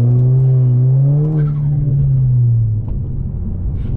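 An Audi fitted with a throttle controller accelerating up close, a loud deep engine rumble with a rising rev that eases back into a low idle-like drone, with no talk.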